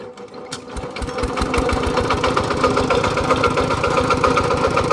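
A hand-started engine idles steadily and loudly with a fast, even, rattling beat, up close and with no talk over it.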